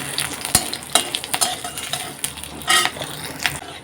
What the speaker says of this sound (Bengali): তেল দিছি লঙ্কা দিছি দিয়ে আমি একটু ভাজা ভাজা করব